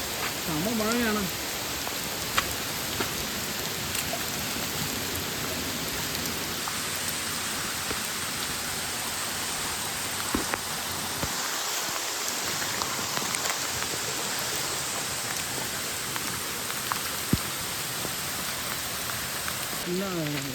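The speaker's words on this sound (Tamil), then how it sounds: "பயங்கர மழை, செம்ம மழை, ஃபுல்லாக நனைஞ்சாச்சு" Heavy monsoon rain pours down hard and steadily near a waterfall, a dense close hiss of drops striking surfaces that runs unbroken, with brief bits of talk.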